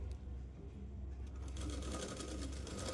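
A sewing machine stitches an umbrella dress with a fast, even mechanical chatter that grows louder and busier halfway through, close by, with no talking.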